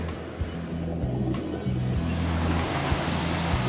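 Ocean waves and surf roll in at Bondi Beach as a steady broad wash, with a low rhythmic hum beneath it.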